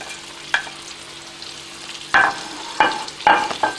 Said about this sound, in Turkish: doğradığımız patlıcanları tereyağda alt üst edip kavuruyoruz